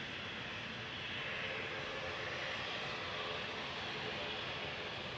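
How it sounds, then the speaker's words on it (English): A TAP Air Portugal jet departs from Manchester Airport for Lisbon, its engines making a steady broadband roar that holds loud and unbroken throughout. "TAP is tapping out. Heading to Lisbon"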